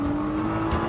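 A Nissan GT-R rolls over a rough test road at roughly 50 to 60 km/h, its engine droning steadily with a strong tonal hum beneath road and tyre rumble, loud and close.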